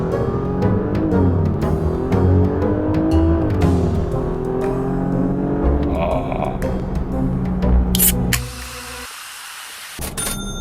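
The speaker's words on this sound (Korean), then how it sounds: "세 번째로 포르쉐답다고 느낀 점, 바로 배기음입니다." A Porsche Panamera engine revs loudly with gear-change swoops in pitch, exhaust roaring nearby, then cuts off abruptly to a hissy quiet near the end.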